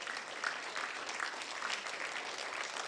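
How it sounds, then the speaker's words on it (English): Steady, fairly faint audience clapping for a high school senior being honoured at a welcome night, even and continuous from a crowd at some distance. "Let's give him a little clap for that."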